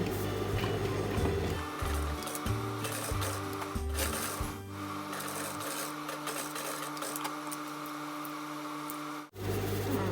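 A sewing machine stitches a pleat on the waistband of a scout skirt. It runs in short, rhythmic bursts at first, then settles into a longer steady whir. The sound is close and clear, with no talking.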